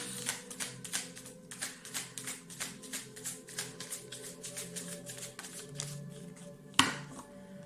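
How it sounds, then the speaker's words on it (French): Tarot cards are shuffled by hand in quick, rhythmic riffling taps up close, ending in one sharper snap as a card is drawn. "Ok, allez, une petite carte de plus"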